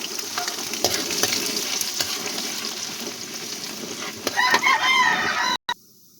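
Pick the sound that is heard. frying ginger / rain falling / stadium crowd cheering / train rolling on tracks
frying ginger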